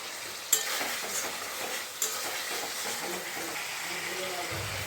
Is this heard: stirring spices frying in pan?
yes